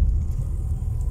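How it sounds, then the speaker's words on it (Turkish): A car approaches on a road, heard as a steady, heavy low-frequency rumble of engine and tires that stays loud and close for the whole short stretch. "Araba geliyor"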